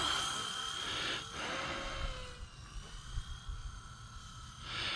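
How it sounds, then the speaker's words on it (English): A small radio-controlled helicopter flies nearby, its steady high-pitched rotor and motor whine rising and falling in pitch as it maneuvers, with a brief louder burst near the end. "But this helicopter does fly really well"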